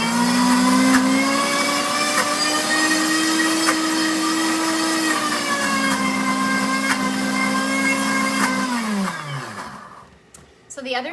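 A countertop blender motor whirs steadily at high speed pureeing hummus until smooth, loud and continuous for about nine seconds before spinning down and stopping.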